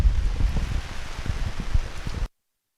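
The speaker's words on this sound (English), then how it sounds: "Rain crashing hard on the turf at Pierrefonds." Heavy rain pours steadily onto the artificial turf of a soccer field at Pierrefonds during a girls' combine match, a dense close hiss with gusty rumbles, cutting off abruptly.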